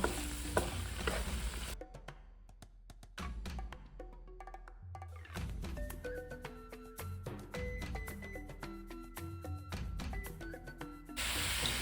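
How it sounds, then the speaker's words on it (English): Meat browning in a pan for kaldereta, a loud sizzle that drops to a quieter, broken hiss with rapid clicks and spatters, ringing utensil taps scattered throughout, then swells back at the end. "So we're gonna cook the meat until it becomes brown."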